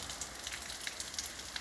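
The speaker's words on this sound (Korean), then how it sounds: "오늘 비가 많이 쏟아집니다" Heavy rain pours down in a steady, dense hiss during a summer day at a native honeybee apiary. It is faint and continuous, with scattered droplet patter and no talk.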